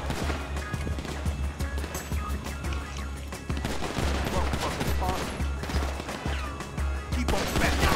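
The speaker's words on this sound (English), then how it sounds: "You still can't shoot for shit, Lamar." Dense bursts of gunfire rattle through a shootout in GTA Online, loud rapid shots and crashes packed together with little pause, with voices heard under the barrage.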